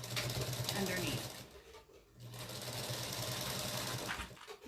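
A sewing machine runs in short bursts while stitching a quilted fabric Easter basket, its steady whirring motor stopping briefly in the middle before resuming, fairly close and loud.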